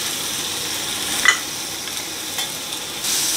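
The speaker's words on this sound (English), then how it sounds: "Time to add in the steak." Steak searing in a hot, smoking cast iron skillet with oil, a steady soft hiss of frying with a brief crackle near the start and a slight swell at the end.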